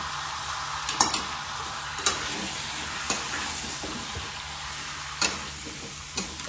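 A chicken curry with chopped potatoes being stirred in a frying pan, a steady low sizzle broken by sharp scraping clacks of the spoon against the pan at irregular intervals, close and fairly quiet, with no talking.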